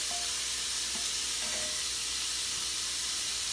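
Ground meat sizzling in a nonstick pan, a soft steady hiss with a few faint scrapes from a wooden spatula, quiet and even throughout.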